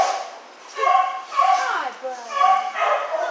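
A hound dog at a county dog pound gives several short yips and whiny, howling barks in bursts, close by, with brief pauses between them.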